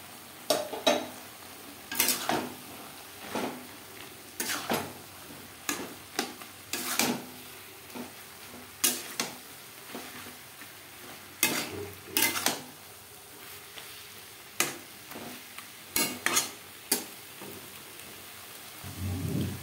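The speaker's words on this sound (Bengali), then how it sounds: "মশলা কষিয়ে নেওয়া হয়ে গেছে" Spice masala for Bengali mutton kosha being stirred and fried in a pan, with repeated scraping, clanking strokes of a spoon against metal over a soft steady sizzle, close and without talk.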